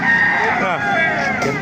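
A rooster at a Philippine poultry market crows once in a loud, close, drawn-out call lasting over a second, over faint background chatter.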